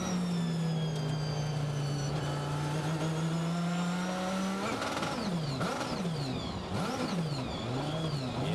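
A Dodge Viper race car at the Sebring twelve-hour endurance race, limping with a suspected gearbox or driveline fault, drones past steadily, its engine note sliding down before the sound breaks into rising and falling revs over trackside noise.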